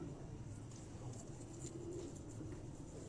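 Pigeons cooing on a rooftop loft, soft low coos repeating faintly over steady outdoor background noise, with no clear talk.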